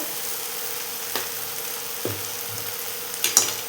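Peanut powder being stirred into a fenugreek leaf stir-fry, a steady soft sizzle with a few faint scrapes and knocks of the spoon against the pan, close and alone.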